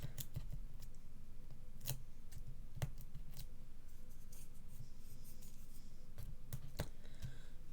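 Quiet crackly peeling and scratchy rustles from backing being pulled off small card-making pieces, with a few sharp ticks and snaps scattered through a steady close-up hush.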